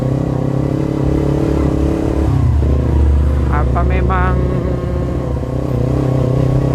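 A Kawasaki Ninja 250 FI motorcycle engine runs loud and steady, dipping and climbing as it revs toward high RPM, with someone talking over the constant roar.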